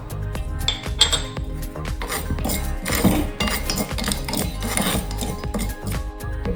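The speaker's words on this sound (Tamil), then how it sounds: "பாருங்கள், நல்ல பொரியிற சத்தம் கேட்குது" Mustard seeds, fenugreek and asafoetida dry-roasting in a pan crackle and pop continuously, with dense rapid spluttering mixed with light scraping against the metal, fairly loud and close.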